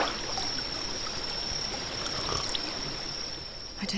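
Water in a stream flows steadily in The Vale video game, a continuous close rush and trickle that holds even throughout.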